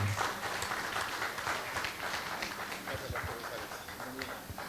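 Sustained, dense applause from a church congregation welcoming a pastor at a live-streamed service, a steady wash of many hands clapping at close range throughout.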